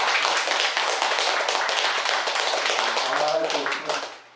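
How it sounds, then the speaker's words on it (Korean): At a Buddhist Wednesday dharma service, an audience breaks into dense, steady clapping that fills the room. It holds at full strength for a few seconds, then tapers off as a voice begins to speak underneath. "박수 드리겠습니다."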